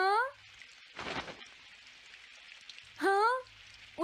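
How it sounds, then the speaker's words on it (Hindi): Rain falls in a Doraemon cartoon, a soft continuous hiss with one louder splashy swell, under animated voices talking. "ओ नहीं, काश ये बारिश जल्दी से रुक जाए।"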